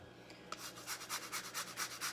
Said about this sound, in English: We're going to zest a lemon.